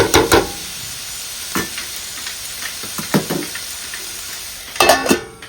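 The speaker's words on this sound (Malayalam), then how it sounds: "ചെമ്മീനും ഇതും എല്ലാം കൂടെ ഒന്ന് മിക്സ് ചെയ്യാമെന്നൊന്ന് മൂടി വെക്കാം" Shrimp sizzle as they are mixed in a frying pan, a steady soft crackle broken by a few loud scraping and clanking spoon strokes against the pan at the start and end, with no talking.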